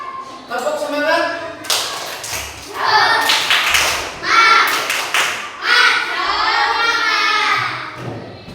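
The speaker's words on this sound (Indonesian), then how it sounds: "Tepuk semangat." A classroom group performs a rhythmic spirit clap, with patterned bursts of clapping and slaps mixed with chanted voices, loud and close, in several rhythmic phrases.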